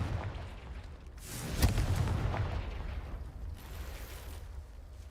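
A Confringo fire spell bursting in Hogwarts Legacy, a sharp explosive blast near the middle followed by rumbling debris over a steady low game ambience, with other muffled booms around it.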